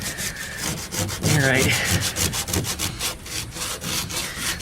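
A rusty area around a VW window seal is scuffed by hand in a continuous rhythmic rubbing and scraping, close up; a brief spoken word comes early on.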